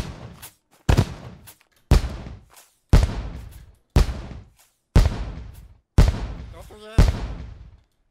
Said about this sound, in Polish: Kto tu się bawi fajerwerkami?